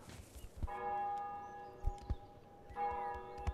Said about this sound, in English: some sort of chime from the church, I'm guessing